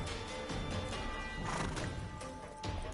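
A horse neighs loudly in The Witcher 3 Wild Hunt video game, a close, drawn-out whinny over hoof clatter and dense game background noise.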